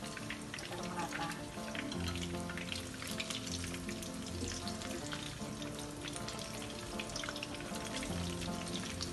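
Chicken meatballs fry in hot oil with a dense, steady sizzle and crackle running throughout, close and constant with no pauses.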